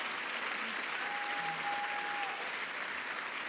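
Audience applause at an awards gala, a steady, fairly faint wash of clapping from a crowd lasting a few seconds.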